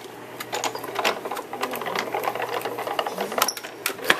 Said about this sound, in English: Get my Cuttlebug out.